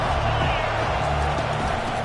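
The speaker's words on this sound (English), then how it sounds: "This crowd trying to make life miserable for this offense." A football stadium crowd at a Georgia SEC game roars in a dense, steady wash of cheering and clapping, loud and continuous throughout.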